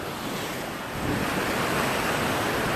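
Wind of about 11 or 12 knots blows off the sea, a loud continuous roar of gusts and breaking surf that swells slightly partway through, with no voices.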